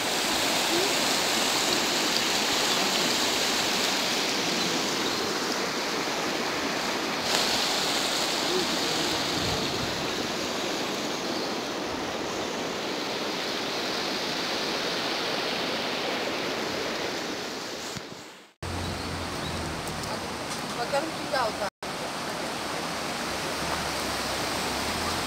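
A village stream babbles in a steady, dense rush of water, close and fairly loud, running continuously with only a brief dip partway through.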